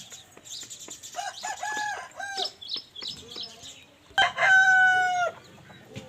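A year-and-a-half-old rooster up for sale crows nearby, with a stuttering run of clucks and calls building into one loud, drawn-out crow near the end, other fowl faintly in the background.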